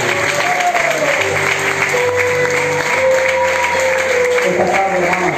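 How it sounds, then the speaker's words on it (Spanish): Church congregation at an evangelistic service clapping steadily over held organ or keyboard tones that shift pitch, loud and continuous throughout with voices mixed in. "Dile palmas que te miren."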